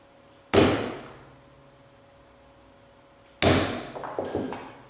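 Two sharp metallic hammer strikes on a centre punch, a few seconds apart, each ringing briefly and fading, the second followed by small rattles and taps.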